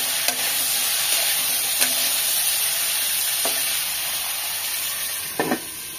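Eggplant pieces frying in hot oil with salt and turmeric, a loud continuous hiss and sizzle filling the whole stretch, broken by a few brief scraping stirs.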